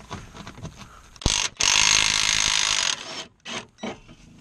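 A hand ratchet works loose a 13 mm front brace bolt on a 2001 Chevy Cavalier during subframe removal, giving a loud, close run of rapid clicking bursts separated by brief pauses.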